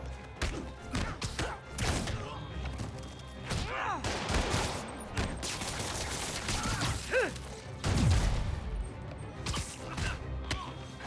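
Gunfire and thuds fill a fight scene in Marvel's Spider-Man Remastered, with rapid shots, impacts and mechanical clatter layered over dense game music and effects, loud and continuous throughout.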